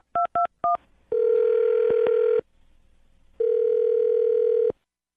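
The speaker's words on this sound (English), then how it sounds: "I'm going to dial her phone number." A telephone number being dialed: three quick keypad tones followed by two long, loud ringback tones separated by a pause.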